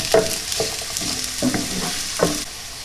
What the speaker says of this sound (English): all we're trying to do here is just soften the onion